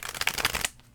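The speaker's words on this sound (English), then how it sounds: "one more shuffle, please" Tarot cards are shuffled in a quick, close burst of papery riffling and flutter lasting under a second, then stopping abruptly.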